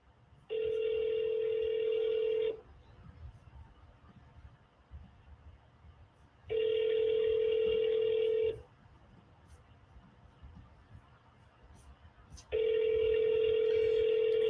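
A telephone ringback tone sounds during rapid-fire outbound sales calls, three long, steady rings about two seconds each, spaced by roughly four-second gaps of quiet line noise, heard clearly with no talking.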